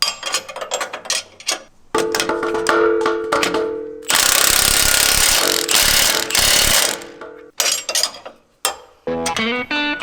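Rapid ratcheting clicks of a tool tightening bolts on a track bar relocation bracket on a Jeep JL Wrangler, in loud bursts separated by brief pauses, with a harsher sustained rattle in the middle.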